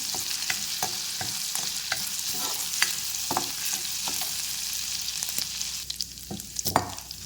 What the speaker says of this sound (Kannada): ನೆಕ್ಸ್ಟ್ ಇದಕ್ಕೆ ಜಿಂಜರ್ ಹಾಕ್ತಾ ಇದ್ದೀನಿ, ತುರಿದು ಇಟ್ಕೊಂಡಿರೋವಂತಹ ಜಿಂಜರ್